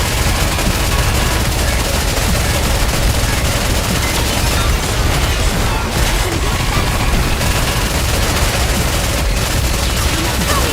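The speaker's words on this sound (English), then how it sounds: "All guns were focused. Fire!" Sustained volley of gunfire in the video game Nikke, with dense, rapid machine-gun fire and booming shots that run loud and unbroken for the whole stretch, close and overwhelming, with voices faintly mixed underneath.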